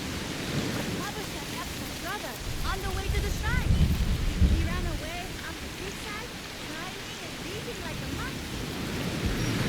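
Steady rain falls through a thunderstorm in Assassin's Creed Shadows, set over the ocean. A low rumble of thunder swells in the middle of the wash of rain, and chirping birds and a voice come through faintly underneath.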